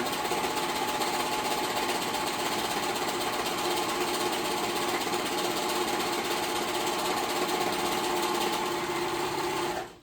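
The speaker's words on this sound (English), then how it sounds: "because this serger is old and very loud" An old, very loud serger sewing machine runs nonstop for about ten seconds, a dense rattling mechanical whir with rapid stitching pulses, close up, before it cuts off abruptly.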